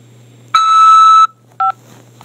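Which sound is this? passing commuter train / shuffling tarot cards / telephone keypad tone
telephone keypad tone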